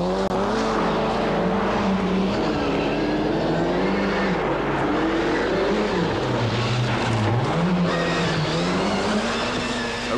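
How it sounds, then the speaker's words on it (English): An Audi rally car races flat out along a stage of the 1988 Welsh Rally, its engine loud and close, pitch rising and falling with gear changes for the whole stretch. "Urikkala, with his gearbox sorted, gives chase, but the Audi seems to hold all the advantages."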